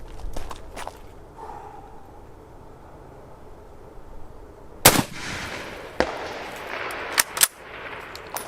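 Rifle shots from 7.62x54R rounds are fired at a Level IV ballistic plate: a quiet stretch, then several sharp, loud cracks spaced a second or so apart, with two close together near the end.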